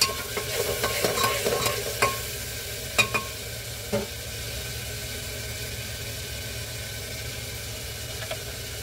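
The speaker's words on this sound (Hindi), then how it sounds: "ये मसाला मेरा भी भून रहा है, अभी भूना नहीं है।" Masala spices frying in a pan for tinda (round gourd) curry, with a few sharp stirring scrapes and clicks early on over a steady low sizzle that continues quietly to the end.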